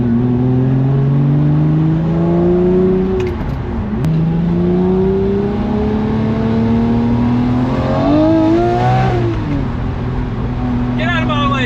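A Lamborghini Murcielago with a gated manual gearbox pulls hard on open road, engine note climbing through the revs, dipping at gear changes and climbing again, loud and close throughout.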